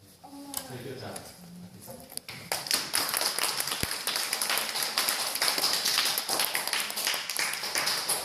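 Applause swells after a short stretch of speech at a church worship service, a crowd clapping steadily and densely for several seconds, fairly close and loud.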